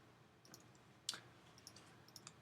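Quiet, sparse clicks of keys being pressed, a few light taps and one sharper keystroke, close up over a faint background hum.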